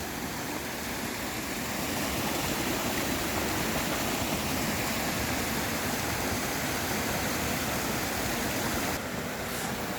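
Mountain valley stream flowing steadily, a continuous dense rush of water close by with no voices, holding an even loudness throughout.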